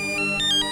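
An electronic telephone ringtone chirps in a short, bright, warbling burst of rising and falling tones, loud and close, with no talking over it.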